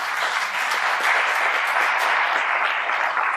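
Sustained, dense applause from an audience at a political candidates' event, loud and even throughout with no pauses.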